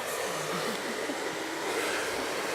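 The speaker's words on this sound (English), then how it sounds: "I'm going to incorporate my blow dryer in this" A blow dryer runs continuously on curly hair, giving a steady, loud, close airy whoosh for the whole stretch with no one talking.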